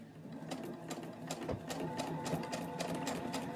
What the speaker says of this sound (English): now I'm going to sew along my seam allowance here